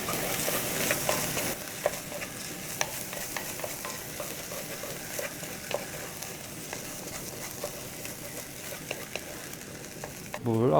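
Rice stir-frying in a Staub cast iron pot, a steady sizzle with scraping and stirring strokes throughout, fairly quiet and close, with a brief louder clatter at the very end.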